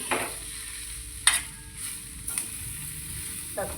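Crumbled leftover chapati fries with onions in a pan, sizzling steadily at close range, with a few clinks and scrapes as it is stirred.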